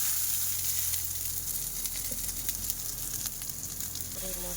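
Hot oil sizzles steadily in a wok (kadai) on the stove, a close, even crackling hiss with a faint scrape as the pan is moved; no one speaks.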